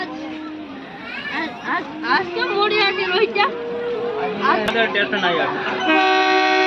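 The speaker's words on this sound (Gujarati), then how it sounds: "હવે વલાદર સ્ટેશનેથી ટ્રેન છે નીકળે છે." A passenger train pulls out of Valadar station on the Gir Gadhada to Sasan Gir line, with people's voices and chatter over the rolling noise and a sustained horn blast near the end.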